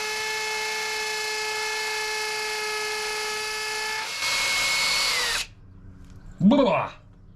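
A loud, steady power drill on hammer setting whines continuously for several seconds while drilling into a wall to fit a grab rail, then cuts off, followed by a brief burst of rattling noise.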